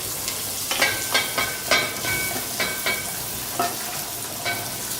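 Spiced potatoes are gently tossed in hot ghee with hing, a steady close sizzle broken by soft rhythmic scrapes of a spoon against the pan, with no talking.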